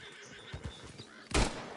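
A horse in the online western game Red Dead Online gives a loud, brief whinny near the end, a single burst rising out of quiet game ambience with a few soft thuds before it.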